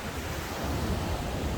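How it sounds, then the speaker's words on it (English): Very gentle waves of the Irish Sea on an ebbing tide at Blackpool, a steady, moderately loud hiss of surf blended with wind buffeting the microphone, continuous and without voices. "the very gentle waves of the Irish Sea, which is on its way out now"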